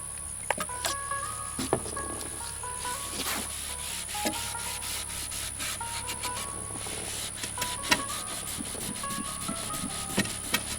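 A cloth or pad rubs ink ebonizing stain into a wooden box, producing quiet, repeated scrubbing strokes with occasional taps and knocks against the wood in a remodeling workspace. No voices are heard.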